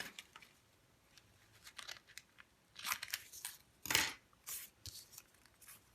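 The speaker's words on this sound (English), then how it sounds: "I just cut a little piece here." Scissors cutting a small piece of handmade painted tape, a few crisp snips and crinkly rustles in short bursts, close and fairly quiet, with no speech.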